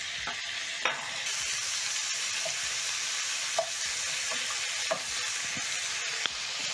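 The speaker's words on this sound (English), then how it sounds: "Listen to the sizzle." Steady, loud sizzling of ribeye beef strips frying in a very hot pan, with a few faint clicks and scrapes of stirring over the constant hiss.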